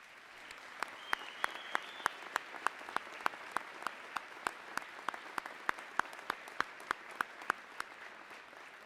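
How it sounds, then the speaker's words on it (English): Applause at a fall college commencement ceremony for the faculty, with sparse individual claps ringing out sharply and irregularly over a soft bed of wider clapping that carries on steadily throughout. "Will each of you join me at this time in extending a most deserved round of applause to this college's outstanding group of educators?"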